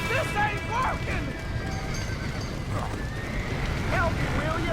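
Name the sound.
horses neighing in a video game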